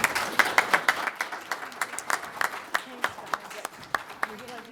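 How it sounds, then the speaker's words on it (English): Conference room audience applauding at the close of a panel session, a moderate crowd whose clapping starts dense and thins into sparse, distinct individual claps that trail off over several seconds, with faint murmuring beneath. "Round of applause for the panel."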